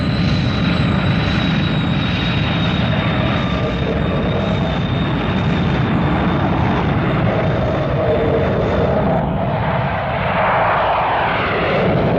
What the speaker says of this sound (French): Je suis prête à partir, Alan. Alors quand tu voudras, la piste est libre, Tintin.